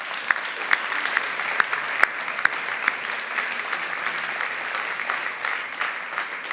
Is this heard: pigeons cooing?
no